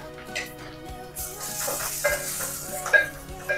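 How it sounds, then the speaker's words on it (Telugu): Lightly crushed ginger garlic paste sizzles steadily in a hot pan for a mushroom curry, with a soft hiss swelling as it hits the oil and occasional scrapes of stirring. "అల్లం వెల్లుల్లి పచ్చివాసన పోయేంత వరకు వేయాలి."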